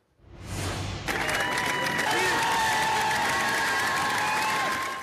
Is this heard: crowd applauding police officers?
yes